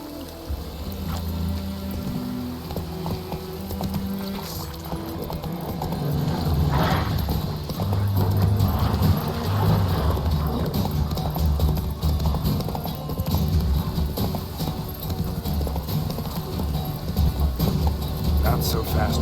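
Galloping horse hooves drum steadily under music and ambient game sound in a video game, with occasional voices and a faint whinny.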